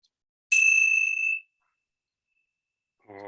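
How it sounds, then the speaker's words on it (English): A single bell is struck once during a closing meditation, ringing loud and clear with a bright sustained tone that decays over about a second, followed by silence and then the start of a chant. "let's just close our time together with the ringing of the bell"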